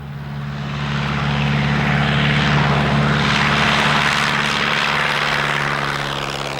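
A de Havilland Tiger Moth light propeller biplane drones steadily with a strong low engine hum, swelling to a peak midway as it passes close, then easing slightly, alone with no voices.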